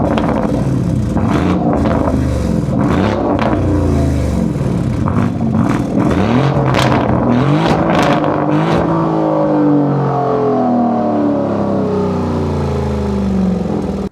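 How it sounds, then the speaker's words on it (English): Lamborghini Urus SE twin-turbo V8 revving hard and close, rising and falling engine pitch in repeated blips, then settling into a steadier drone. "this car sounds actually really, really good with the V8 twin turbo"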